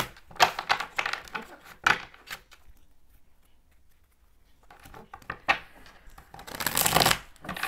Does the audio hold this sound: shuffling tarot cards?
yes